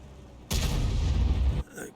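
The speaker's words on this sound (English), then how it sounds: "you hear a whoosh, and that's the shell being fired." An artillery shell fired from an SU-122A tank destroyer in World of Tanks, heard as a single loud, sustained whooshing blast for about a second that cuts off abruptly, with a faint tail afterward.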